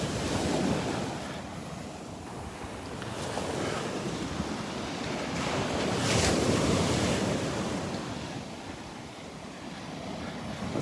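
Ocean surf rolls steadily onto the sand at Delnor-Wiggins beach on a Sunday morning, a continuous broad wash swelling and easing, with wind buffeting the microphone and no voices.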